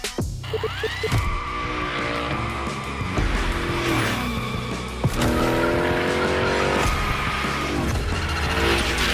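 A car slides through turns in The Crew Motorfest Hoonigan gymkhana event, tires squealing in long sweeping screeches over a loud, revving engine, with shifting pitch as it drifts and accelerates.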